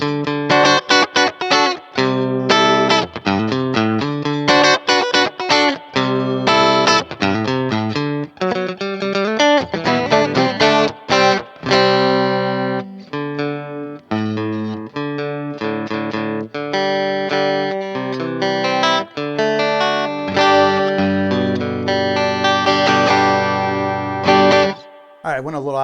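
An electric guitar from a STRICH beginner kit plays on its middle pickup alone, a clean, bright tone with quick strummed chords and picked notes running continuously and fairly loud.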